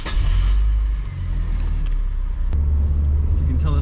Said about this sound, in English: This one sounds like a proper car.